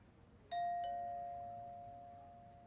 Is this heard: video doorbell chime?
yes